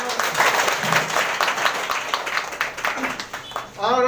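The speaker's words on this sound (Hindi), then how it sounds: "आप सभी का तालियों से" Applause from an audience at a joint community event in Siliguri organized with the Bhaktinagar police station, steady dense clapping throughout, with a voice speaking over it near the end.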